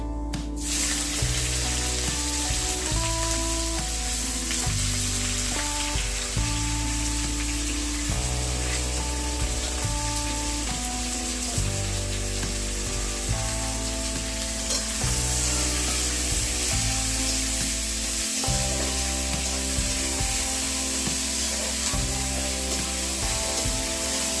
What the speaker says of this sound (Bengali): প্রথমে কড়াইয়ে দেওয়া হয়েছে জিরেটা লাল হওয়া পর্যন্ত ভেজে নিতে হবে